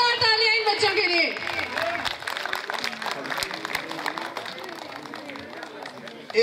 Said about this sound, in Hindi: जोरदार तालियां इन बच्चों के लिए